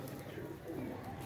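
Pigeons coo softly in a short, faint burst, with low murmuring calls heard at a distance.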